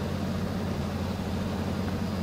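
A Renault Major truck engine in Euro Truck Simulator 2, held at high revs: a steady, droning hum with a constant low rumble, even and unbroken, with no talking.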